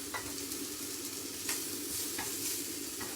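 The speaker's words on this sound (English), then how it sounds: "Kind of just dry fry them" Chicken pieces dry frying in a pan in their own fat with no added oil, giving a steady broadband sizzle with occasional stirring scrapes.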